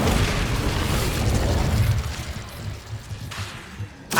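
An Incendio fire spell is cast in Hogwarts Legacy, a loud roaring whoosh of flame that surges at the start, then tapers into crackling rumble before a final sharp flare at the end.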